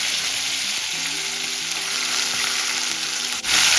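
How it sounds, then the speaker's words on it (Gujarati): Ginger and red chilli sauté in oil for a cabbage and potato curry, giving a steady loud sizzle with a brief stirring scrape near the end, close and continuous with no voices. "તેલમાં સતળાવી લેવાના આવી રીતે."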